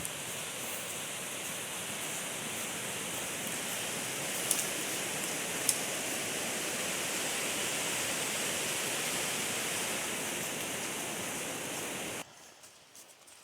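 A creek rushing beside a hiking trail where the path runs into the water, a loud, steady broadband roar of flowing water that continues for about twelve seconds, then cuts to quieter background.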